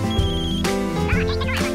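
A phone rings in a cinema with bright electronic tones warbling over dense, busy sound, close and insistent for a couple of seconds.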